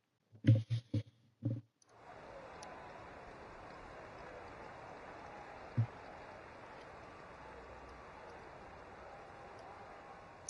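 Rain begins at the start of a race on a Singapore track in a racing video game: a few sharp clicks, then a steady, even hiss of rainfall that holds for the rest of the clip.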